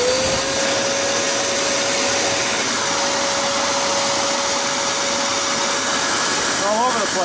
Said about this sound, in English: this one's going to be loud, so we're going to see what it's doing